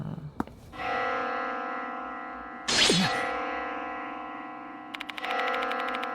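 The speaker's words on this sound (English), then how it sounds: "Where's this bell sound coming from?" A deep bell tolls in a horror video game, each strike ringing out with long echoing decay, a louder clang midway and metallic chiming near the end, no speech.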